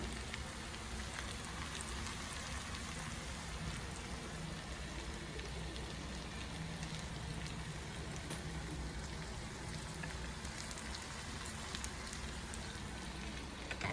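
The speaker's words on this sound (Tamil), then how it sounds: "எண்ணெயில் நல்லா வெந்துட்டுருக்குதுங்க" Mango pickle sizzles in hot oil as it cooks, a dense, even crackle and hiss that runs steadily at low volume, with no talking over it.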